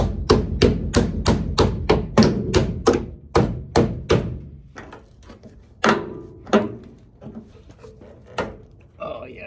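Rusty, fatigued Jeep Cherokee sheet metal being bent and knocked aside, a quick run of sharp metallic taps followed by slower, scattered clanks and thumps, close by, with brief talking mixed in.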